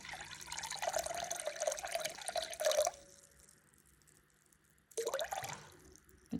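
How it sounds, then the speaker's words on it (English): Filtered water pours into a bowl on a kitchen scale for sourdough, a steady close trickle lasting about three seconds, stopping, then a brief second splash of pouring near the end. "I'm going to add 360 grams of filtered water."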